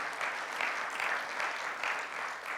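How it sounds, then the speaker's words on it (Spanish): A church congregation claps for the Lord, a steady, moderately loud wash of applause that pulses slightly and continues without a break. "¿Cuántos pueden dar un aplauso al Señor?"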